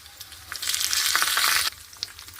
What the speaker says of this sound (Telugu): ఎండుమిరపకాయలు జీలకర్ర ఆవాలు కరివేపాకు అన్నీ యాడ్ చేసుకొని పోపు పెట్టేసుకున్నాము